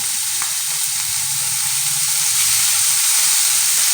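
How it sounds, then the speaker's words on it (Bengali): Oats fry lightly in a pan, giving a steady, close sizzle and hiss throughout with faint stirring underneath. "তো খুব বেশি কড়া করে ভাজবো না হালকা করে ভেজে নেব"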